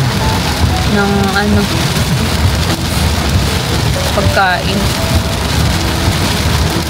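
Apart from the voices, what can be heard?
rain falling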